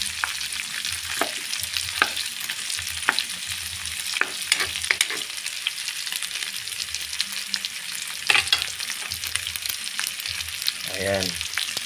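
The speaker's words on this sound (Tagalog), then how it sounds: "papupulayin lang natin guys yung bawang" Garlic and then onion sautéing in a hot pan, a steady loud sizzle and frying hiss broken by repeated scraping stir strokes, with no talking over it.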